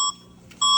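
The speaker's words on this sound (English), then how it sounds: "That's literally EAS alarm for South Korea." Brazilian emergency alert system alarm tone: a loud, piercing electronic beep sounds, breaks off briefly, then starts again, with no voices.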